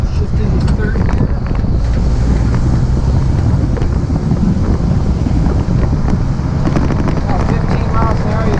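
An M-37 Power Wagon truck driving in third gear at low speed, with a steady loud engine and drivetrain rumble smeared by heavy wind buffeting across the microphone and no pauses.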